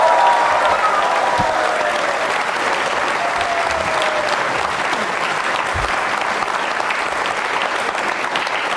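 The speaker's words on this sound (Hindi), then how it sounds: "उनके सम्मान में जोरदार ताली बजाइए।" A large audience at a devotional program claps loudly and continuously, the dense applause holding at a steady level throughout without any speech.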